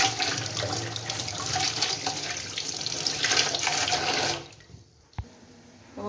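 Tap water gushes steadily into a sink while catla fish soak, a loud, close splashing flow that stops abruptly near the end, followed by a faint clunk and quiet room tone.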